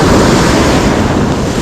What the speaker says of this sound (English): medium retrieve, we got waves breaking.